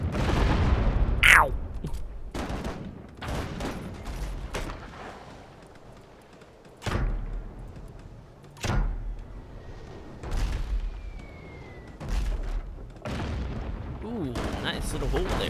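Booming mortar cannon shots in the ship battle game Abandon Ship, a series of heavy, separate blasts spaced a second or two apart, loud and close, with a voice speaking between them.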